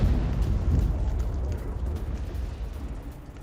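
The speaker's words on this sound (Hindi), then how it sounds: "दक्षिण लेबनान पर सफेद फास्फोरस बम से हमला किया गया।" White phosphorus bombs explode over Ali al-Taher in southern Lebanon, making a deep, continuous rumbling boom that is loudest at the start and slowly fades, with no talk.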